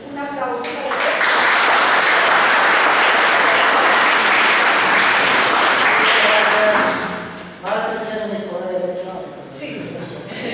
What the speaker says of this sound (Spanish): Entonces, un aplauso para ustedes.